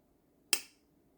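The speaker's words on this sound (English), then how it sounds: "let me do the little finger snap" One crisp finger snap, close and sharp, rising out of near silence and decaying quickly, alone with no other sound.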